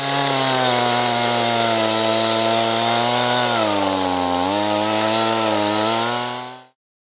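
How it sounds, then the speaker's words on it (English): Chainsaw carving a wooden sculpture, a loud, steady engine drone close by whose pitch dips and wavers as it bites, then cuts off abruptly. "I'm ready to paint with my chainsaw."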